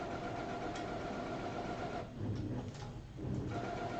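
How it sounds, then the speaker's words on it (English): A home printer runs steadily with a dense mechanical whir and grinding, with its motor pitch shifting partway through as it works loudly and continuously, close by. "My printer is freaking out."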